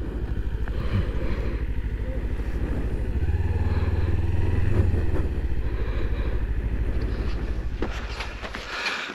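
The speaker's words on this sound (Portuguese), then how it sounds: "a gente acabou de deixar a moto aqui no estacionamento" Motorcycle idling and rumbling in a parking lot at Altos do Corvo Branco: a steady low engine putter runs throughout, swelling briefly in the middle, with wind buffeting and some clatter toward the end.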